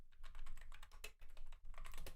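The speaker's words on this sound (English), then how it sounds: "Let me just try typing this to DuckDuckGo." Fast, close typing clatters on a computer keyboard in quick bursts, with brief pauses between them and no talking.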